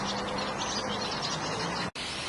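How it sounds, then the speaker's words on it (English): Birds calling from a small island in the Ebro river, a dense continuous chorus of chirps and tweets under steady outdoor noise, moderately loud, with a brief cut near the end and no talking. "And out there on that little island are some birds."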